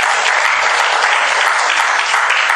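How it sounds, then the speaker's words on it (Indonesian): A church congregation bursts into loud, dense applause during a sermon, a continuous wash of hand claps lasting a couple of seconds with no voices above it. "ya tepuk tangan buat dia."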